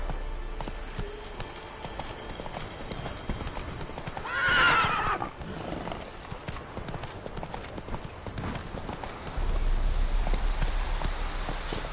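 Roach, a horse in The Witcher 3, gallops in a steady, fast clip-clop of hooves against a rain-like background, with a loud neigh partway through and a deeper rumble toward the end.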